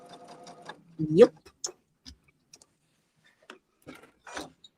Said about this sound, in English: I'm just lining these up and sewing one right after another. It's what you call chain sewing.